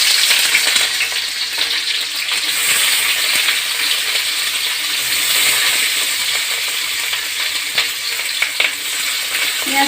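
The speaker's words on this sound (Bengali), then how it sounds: "পেঁয়াজ কুচিগুলো ভালো করে ভেজে নেব।" Chopped onions frying steadily in white cooking oil for a Koral fish curry, a dense continuous sizzle with occasional crackles and faint spoon scrapes, close and even throughout with no voices.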